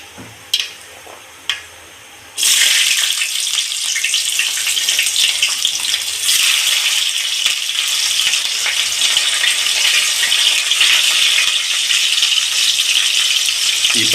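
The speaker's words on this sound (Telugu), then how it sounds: "పచ్చిమిర్చి ఎర్రగడ్డ దొరగొట్టిన దాకా వేయించుకున్నాం" Green chillies and onions fry in a pan with a loud, steady sizzle that bursts in after a couple of quiet seconds with a few soft knocks, then crackles on without talk.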